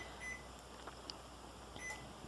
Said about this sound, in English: we're going to put it in the microwave